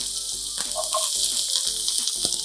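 Onions sauteing in canola oil in a pan give off a steady, close sizzle with a few soft stirring scrapes and clicks, and no one speaks.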